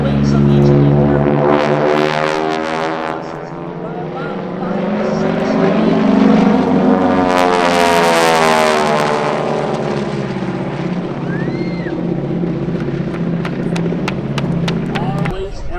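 Grumman Hellcat warplane with a Pratt & Whitney Double Wasp 18-cylinder radial engine making an airshow flyby. A loud propeller roar swells to a peak as it passes close, then fades, with an announcer talking over it.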